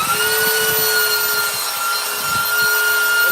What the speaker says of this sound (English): It's a belt sander. So I'm just going to hold it here.